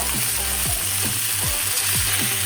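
Peas, corn, red beans and other vegetables stirred in a sizzling pan, with repeated scraping strokes at a steady rhythm over a constant fry.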